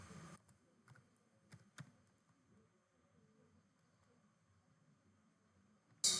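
Quiet, close typing on a computer keyboard as HTML code is written, a sparse patter of soft key clicks with a few louder taps and pauses, no voices.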